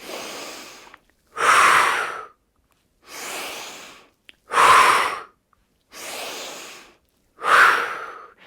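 Deep, slow breathing during a seated yoga session in a chair, with six long alternating breaths, three softer inhales and three louder, forceful exhales, each lasting about a second or more, close and alone with silent pauses between.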